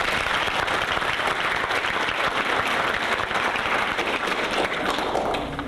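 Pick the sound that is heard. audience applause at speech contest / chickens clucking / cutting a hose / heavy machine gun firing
audience applause at speech contest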